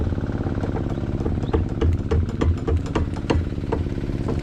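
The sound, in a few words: engine running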